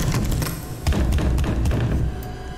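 Knocking on a locked door in the horror game The Curse of Carla Shaw, a few dull thuds and taps under a low rumbling ambient bed, moderately close.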